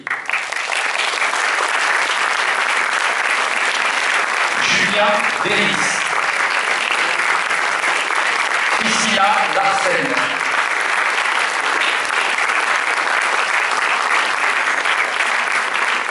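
Sustained applause from a cinema audience at a film premiere, welcoming the producers onstage, with steady dense clapping throughout and an announcer's voice breaking through twice.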